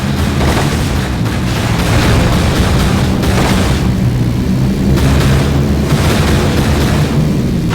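Gunfire and explosions from the video game Pursuit Force 3, a continuous loud barrage of booming blasts and bursts filling the whole stretch with no pauses.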